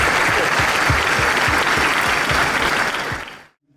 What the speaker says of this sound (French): j'aimerais quand même que vous m'applaudissiez